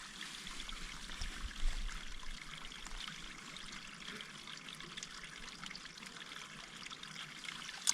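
A shallow mountain creek trickles and burbles steadily at high altitude, a close, continuous wash of running water with no voices.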